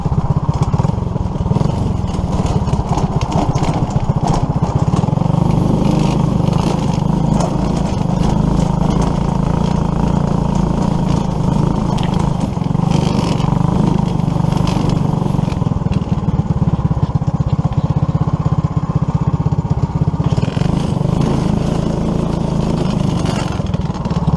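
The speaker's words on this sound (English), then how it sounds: "headlight brackets sound like shit rattling" A homemade tractor built around a 212 engine with loose headlight brackets runs steadily close by, its loud, even chugging drone holding for the whole stretch with a buzzy, rattly edge.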